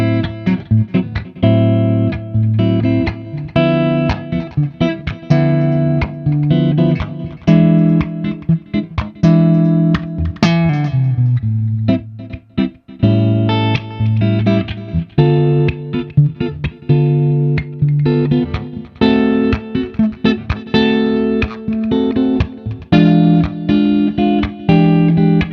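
A clean electric guitar, a Gibson Les Paul Standard 60s, plays chords and single notes steadily, bright and undistorted, alone with no voices.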